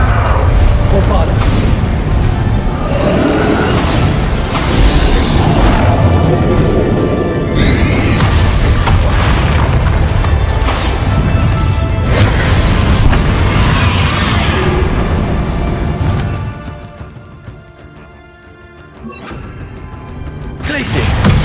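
Bombarda explosion spell cast in Hogwarts Legacy, heavy booming blasts and crashing impacts over dense game music and voices, loud throughout with a brief quieter dip near the end.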